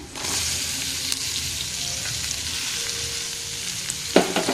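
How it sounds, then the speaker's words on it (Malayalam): Green chillies and curry leaves sautéing in a pan for an onion thoran, a steady close sizzle of frying with a few stirring scrapes and a louder clatter near the end. "നന്നായിട്ട് ഇളക്കി കൊടുക്കണം"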